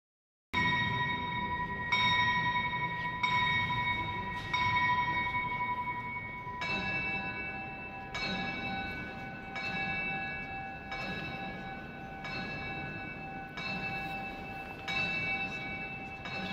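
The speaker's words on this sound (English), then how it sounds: "Adam and Eve at the top are about to ring the bells." Bells of an astronomical clock ring inside a medieval church in Gdansk, a series of clear resonant chimes struck at a steady pace, each tone ringing on and overlapping the next in a reverberant interior.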